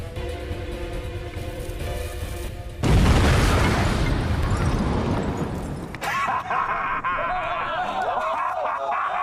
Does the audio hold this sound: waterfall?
no